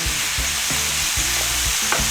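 Food frying in a pan for mini pizzas, a loud continuous close sizzle with rhythmic low scraping strokes of stirring.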